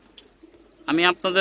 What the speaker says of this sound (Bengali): এই যে কালো কবুতরগুলা হ্যাঁ একেবারে সুপার ফার্স্ট ক্লাস কবুতর